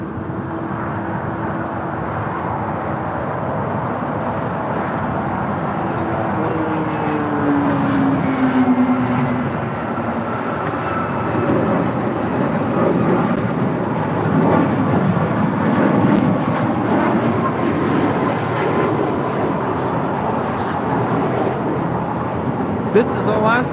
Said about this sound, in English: This is Alaska Airlines 1072 departing to Seattle on a MAX 9.